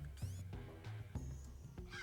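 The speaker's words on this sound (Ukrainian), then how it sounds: "Звідки летить пташка? Де вона крякає?" A bird in the Madagascar video game lets out a string of harsh, crow-like caws, several quick squawks in a row over a soft game background.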